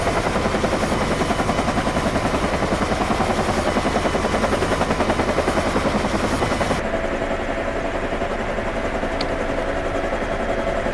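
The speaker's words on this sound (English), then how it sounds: "Let's see how quickly I can crash this helo." Simulated helicopter rotor and engine noise in the Prepar3D flight simulator, a steady loud chopping drone that holds throughout and thins out partway, with no talk.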